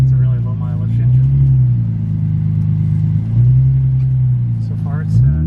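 A Nissan 350Z sports car with a swapped low-mileage engine idles with a deep, steady rumble, rising briefly in pitch a couple of times, while people talk over it.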